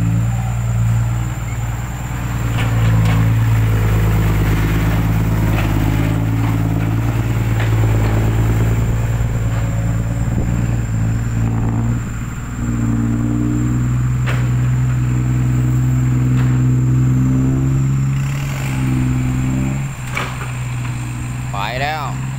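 Farm tractor engines race on a wet sandy dirt track, a loud continuous low drone with steady harmonic hum and shifting revs, while an announcer talks over it throughout.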